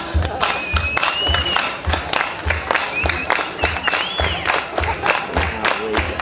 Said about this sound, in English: We want you to start this song off by clapping along, if you can.